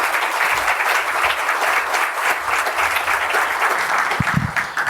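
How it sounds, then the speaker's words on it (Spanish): A conference audience in Corrientes applauds in welcome as a speaker takes the stage, a thick, sustained wash of clapping that holds steady and close, tapering slightly at the end. "Recibimos con un fuerte aplauso y bienvenida al señor Lucas Jolías."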